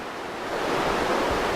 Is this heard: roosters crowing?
no